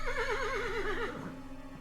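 Horse in the pixel-art video game Yuppie Psycho lets out a loud, wavering whinny that trails off into a lower, fading tail, heard alone.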